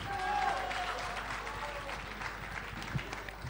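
Audience at an awards show clapping, a moderate burst of applause that swells early then thins, with voices and talk mixed in over it.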